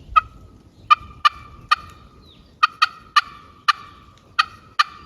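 Sharp, high clucks from a handmade turkey pot call, about ten evenly spaced single notes with short pauses between, close and clear over a faint low rumble.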